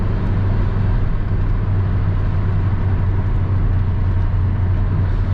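Ford Tourneo Connect 1.8 110HP diesel on the road, a steady low engine drone with road and cabin rumble heard from inside, loud and constant with no pauses.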